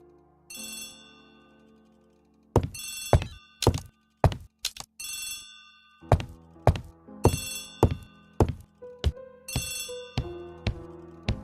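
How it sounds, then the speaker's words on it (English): In the Agatha Christie: The ABC Murders video game, an old-fashioned telephone bell rings in repeated bursts, mixed with sharp wooden knocks and thuds in a clear, rhythmic pattern. "Poirot, the telephone."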